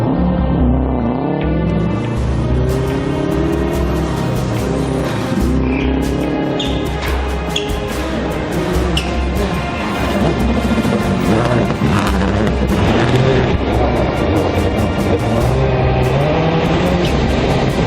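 Rallycross race cars at X Games Austin 2014 roar and rev hard, shifting pitch as cars accelerate past, loud and continuous with gravel and mechanical clatter.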